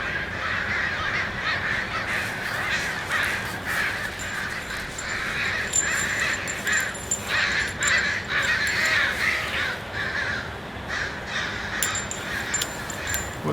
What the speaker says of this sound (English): those crows are really out today